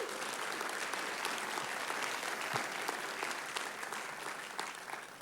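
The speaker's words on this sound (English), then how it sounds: "Please give them a round of applause." An audience at the Golden Apple Awards ceremony applauds warmly, a dense sustained round of clapping throughout that tapers slightly at the end, with no voices speaking.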